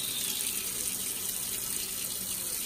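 Water runs into a measuring cup while a cake is being made at home, a soft continuous hiss and trickle at low volume with no voices.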